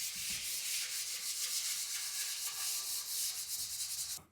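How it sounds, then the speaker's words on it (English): A small 320 grit sanding sponge rubs lightly over wood before staining, producing a steady, soft, close scratchy hiss with quick back-and-forth strokes, alone and fairly quiet. "take a 320 grit little sanding sponge here and just lightly hit all of this before we put the stain on"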